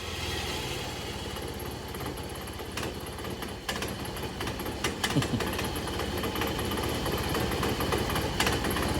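A Derbi AM6 77cc big-bore engine with a crank, built into a Sherco supermoto, running at a steady, loud, buzzing drone with a slight rise in intensity toward the end and no voices over it.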